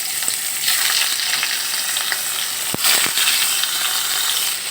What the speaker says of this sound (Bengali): তেল গরম করে নিয়েছি, এবার আমি রুই মাছগুলোকে ভেজে নিব।